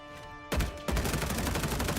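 Gunfire from a firearm in a first-person shooter video game cracks suddenly after a quiet moment, followed by a rapid run of shots in a steady automatic rhythm, loud and close, with no talking.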